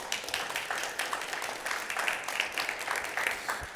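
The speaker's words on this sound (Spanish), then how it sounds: "Yo creí que le iban a aplaudir a los siervos" Church congregation applauding its servants during a sermon, a steady, fairly close burst of many hands clapping that continues throughout.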